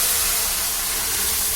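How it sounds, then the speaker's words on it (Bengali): Boiled masoor (red lentil) dal with vegetables is poured into a kadai of hot tempering oil and spices, giving a loud, steady broadband sizzle and hiss that holds throughout with no talk. "কড়াইয়ের মধ্যে যেখানে আমরা ফোড়ন ভেজেছিলাম সেই ফোড়নের মধ্যে ডালটা দিয়ে দিলাম আমরা"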